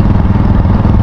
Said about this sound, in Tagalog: ingay motor niya.